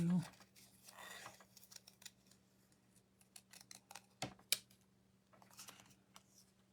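Scissors snip through cardstock in a series of short, crisp cuts, irregular and close, one sharper snip standing out, over a faint steady hum in a quiet room.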